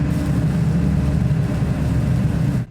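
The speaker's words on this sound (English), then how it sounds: "I've managed to raise the volume high enough so we can hear the truck sounds" Pickup truck engine in the video game Captain of Industry, a steady close rumble with a mid-range drone, holding level for almost three seconds before cutting off.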